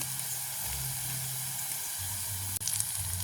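Curry leaves and other ingredients are sautéed in a pan during outdoor village cooking, giving a continuous close hiss and sizzle with a faint low hum and one brief clack near the end.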